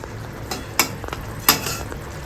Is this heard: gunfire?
no